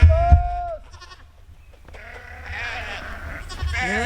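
Sheep bleat near a livestock trailer being loaded, one loud wavering bleat at the start, then more bleats rising over soft farmyard background and low talk.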